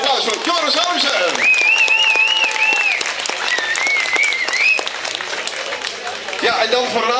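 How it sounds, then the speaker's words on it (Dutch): Loud, sustained applause and cheering fill a hall at a celebration honouring athletes. Whistles rise over the dense clapping, and voices mix in throughout. "dames en heren, applaus voor Joris Harmsen!"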